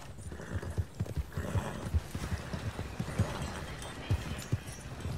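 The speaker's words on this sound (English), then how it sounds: "Oh, look, a wagon!" Hooves clip-clop in an uneven trotting rhythm as a horse pulls a wagon in the Red Dead Redemption 2 video game, moderately close, with a low rumble beneath and no clear talk.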